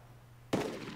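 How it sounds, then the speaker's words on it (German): A single sharp gunshot from the DayZ video game cracks out after a quiet half second, followed by a lingering echo. "Die Schüsse schlagen da schon ein."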